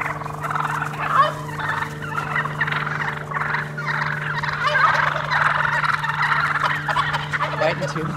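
Wild turkeys fighting, with a dense chorus of loud, rattling gobbles repeating throughout over a steady low hum, the calls close and overlapping.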